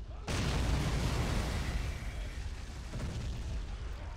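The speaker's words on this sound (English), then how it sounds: "But the rocket soldiers are still firing." A sudden heavy boom opens a rolling rumble of rocket fire and explosions in a large Warhammer 40k video game battle, sustained low thunder with a second softer blast later on.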